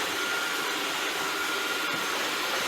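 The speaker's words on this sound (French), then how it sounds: "Et voilà, il aspire." A Dreame D10 Plus Gen 2 robot vacuum with automatic dust emptying runs nearby with a continuous, even, hissing suction whir that stays steady throughout and has no voices over it.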